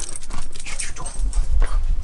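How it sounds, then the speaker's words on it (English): A Springer Spaniel puppy whimpers and whines in short, close bursts over about two seconds, with no talking. "he's a Springer Spaniel puppy"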